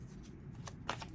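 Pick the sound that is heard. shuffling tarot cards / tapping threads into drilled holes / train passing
shuffling tarot cards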